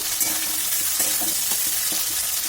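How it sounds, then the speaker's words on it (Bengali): Potato pieces fry in oil with onion in a pan while being stirred, giving a steady, close sizzle broken by regular scraping stir strokes throughout. "আলুগুলো দিয়ে বেশ ভালোভাবে একটু ভেজে নিতে হবে।"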